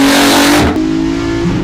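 A Volkswagen Caddy van fitted with a 3.2 litre VR6 engine revs hard and loud close by, the note dropping sharply after a second before settling into a steady idle.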